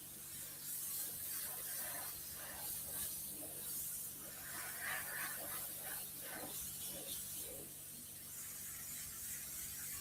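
An airbrush sprays a base coat on zombie art with the compressor at about 30 psi, giving a faint, continuous airy hiss with soft intermittent bursts and rubbing textures throughout.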